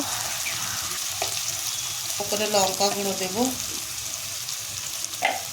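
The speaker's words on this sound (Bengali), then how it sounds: "ভাজা ভাজা করে নেব" Ginger, garlic and green chili paste sizzles and fries in a pan with spices, a steady crackling hiss stirred now and then, while someone talks over the cooking.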